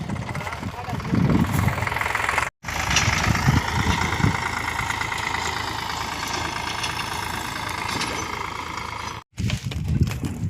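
A tractor engine idles close by in a steady, throbbing low rumble that runs almost the whole time, with voices talking faintly underneath.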